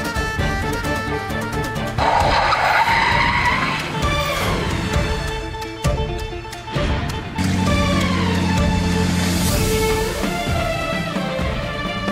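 A car skids loudly toward a person, with tires squealing and the engine surging over a dramatic music score, in a tense scene in a Marathi TV serial.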